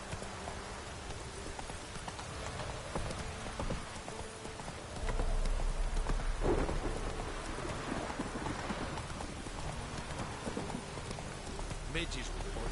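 A horse gallops through a rainy downpour in The Witcher 3 video game, rhythmic hoofbeats under steady rain hiss, swelling louder midway, with a voice speaking over it.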